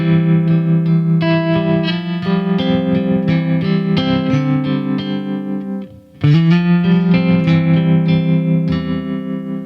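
Sustained electric guitar chords pulsing with a steady tremolo wobble from a Quad Cortex tremolo placed before the amp, loud and effected, with a brief drop in volume before the chords return.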